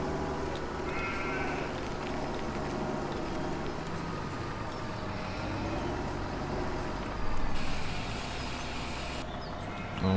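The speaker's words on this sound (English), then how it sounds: "I'm pretty sure these dead-eyed sheep will assist us." Sheep in the Farming Simulator 2017 video game bleat repeatedly over a steady mechanical engine hum, with a brief louder burst of noise near the end.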